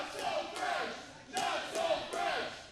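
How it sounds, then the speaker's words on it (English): Wrestling crowd at a UCW show rising into loud rhythmic chanting, repeated vocal swells roughly every half second, dense and mid-distance with no clear talk over it. "The crowd beginning to chant."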